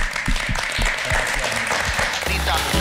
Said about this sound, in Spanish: un aplauso, porque es bien merecido que lo tienen